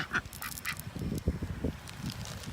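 Ducks quack a few times on a morning walk, brief nasal calls close by over outdoor background sound, with no clear talking.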